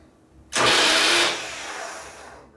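A 1967 Harley-Davidson 74ci shovelhead engine catching with a sudden loud burst, then settling into a steady rumbling run that eases slightly and carries on through the rest of the moment.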